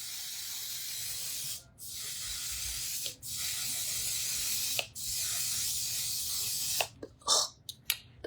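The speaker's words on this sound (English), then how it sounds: "now we're gonna take this waterproof setting spray" Waterproof makeup setting spray hissing in three long, steady bursts from an aerosol can close by, each stopping abruptly, followed by a few short scraping knocks near the end.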